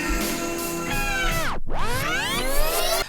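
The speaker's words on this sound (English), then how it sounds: "It's kind of a record rewinding." Sampled record-rewind effect: dense pitched material sweeps steeply down into a brief gap, then rises back up in a sliding spin, loud and continuous for about three seconds with no talking.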